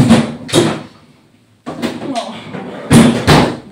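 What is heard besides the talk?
freezer door opening and closing while putting away ice cream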